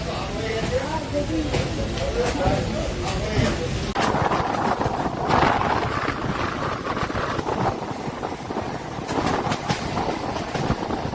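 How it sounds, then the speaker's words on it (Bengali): A moving train rumbles and rattles steadily from inside the carriage, with wheels clattering and voices murmuring underneath throughout, on a line in West Bengal toward Tarakeswar. "সেই ট্রেনটা অলরেডি ছেড়ে দিয়েছে ট্রেন চলছে"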